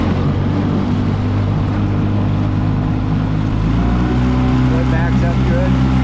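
Outboard engine of a 2022 Hewescraft 190 Searunner boat running in reverse during a water test, a loud steady low drone throughout, close by, with voices talking faintly over it.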